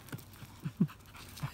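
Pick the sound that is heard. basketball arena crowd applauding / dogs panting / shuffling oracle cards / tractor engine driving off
dogs panting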